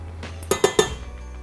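Three quick metallic clinks and scrapes of a spoon against a halved red kuri squash as the pulp is scooped out, close and distinct over a low steady hum.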